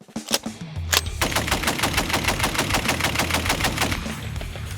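A Browning M2 heavy machine gun fires a long, sustained burst of rapid, evenly spaced, very loud shots after a few opening single reports, heard close with no talk.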